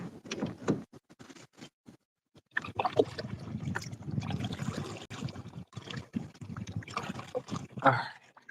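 Kayak paddling on water during a late-season outing, with irregular splashing and dripping strokes close by, pausing briefly before resuming with steady watery swishes and knocks against the boat.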